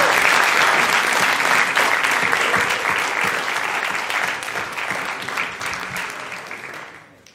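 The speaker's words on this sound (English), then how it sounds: "give yourselves a big, big, big round of applause" A large audience at a startup pitch event claps steadily in sustained applause, loud and full at first, gradually tapering before cutting off.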